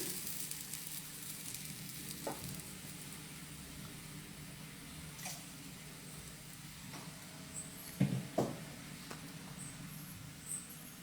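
Food sizzles on a hot tava griddle, a quiet steady hiss running the whole time with a few soft clicks and scrapes, and a brief louder crackle near the end.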